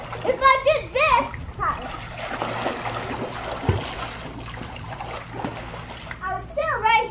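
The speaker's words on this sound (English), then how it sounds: "How about we end with some cannonballs? Biggest cannonball." Children doing cannonball jumps into a pool, with a loud close splash and churning water, with children's voices talking and shouting before and after.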